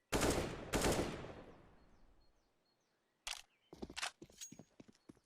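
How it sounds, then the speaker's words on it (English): Burst gunfire in the video game CS:GO: two sharp shots ring out and echo away, then after a pause a rapid cluster of clicking shots and small bursts follows, fairly quiet overall, with no talking. "The burst fire of NiKo down into that banana smoke"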